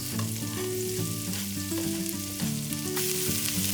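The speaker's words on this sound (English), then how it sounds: "Let's heat up a pan with some butter, our cumin seeds, and our onions." Cumin seeds and onions sizzle in butter in a hot pan for pav bhaji, giving a dense continuous frying hiss with light stirring, close up, under steady background music and no talking.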